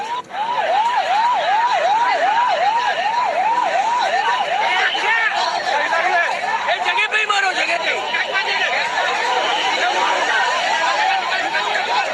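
Ambulance siren at a bus accident site on Kurla LBS road, where a speeding BEST bus hit several vehicles: a loud, fast repeating wail held steadily throughout, with voices and chatter around it.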